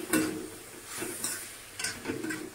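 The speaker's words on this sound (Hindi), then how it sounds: "बस अब इन सब के बाद हम इसको अच्छे से एक बार चलाते हैं।" Masala pasta being stirred in a pan over a low flame, with three or four scraping, sizzling strokes spaced about a second apart, close and fairly loud, no talk.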